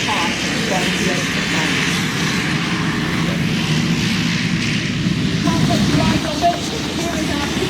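RNZAF aircraft making a fly past at the Warbirds over Wanaka air show give a loud, sustained engine roar and broad rushing noise that holds steady throughout.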